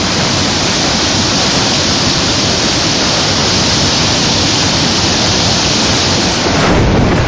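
Powerful floodwater rushes during flooding in Andhra, a loud, continuous roaring torrent of noise holding steady throughout with no voices.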